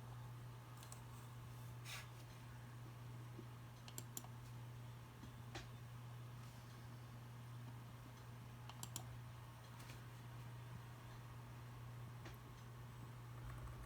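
Quiet keystrokes come in scattered short bursts on a computer keyboard over a steady low hum, faint and close, with no talking.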